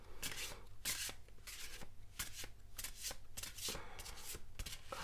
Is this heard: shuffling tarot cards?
yes